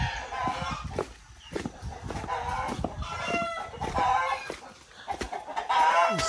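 Hens cackle loudly and repeatedly on a rainy rural smallholding, wanting to lay eggs, with rhythmic clucking bursts close by and a rooster crowing among the farm noise.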